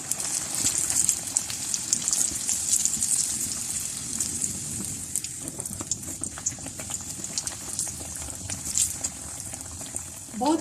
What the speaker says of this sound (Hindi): बहुत अच्छी क्रिस्पी सी ये फ्राई हो रही हैं।